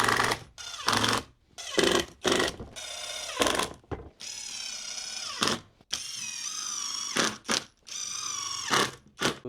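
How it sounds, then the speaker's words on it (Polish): A power screwdriver drives screws to fix roof insulation in a camper converted from a bus, giving repeated whirring bursts with rising whine, separated by short pauses, loud and close. "Tylko jeszcze jakimiś wkrętami trzeba to połapać."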